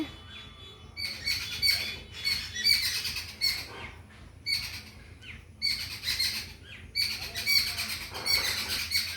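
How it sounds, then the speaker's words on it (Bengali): Several birds squawk and chatter in bursts, raspy and shrill, fairly close, with short pauses between noisy flurries. "দেখ কত পাখি এসছে, ওরা খাবে।"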